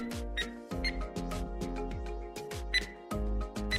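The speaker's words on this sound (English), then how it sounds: "this is what planting the bomb looks like" A bomb is planted in a Unity-built Counter-Strike: Global Offensive remake, giving a rapid series of sharp electronic beeps and clicks like keypad presses over a low bass thud, close and clear with no speech.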